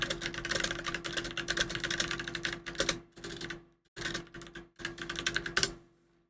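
Rapid typing on a computer keyboard, a dense run of close, crisp key clicks in bursts with brief pauses, loud and dry with no talking over it.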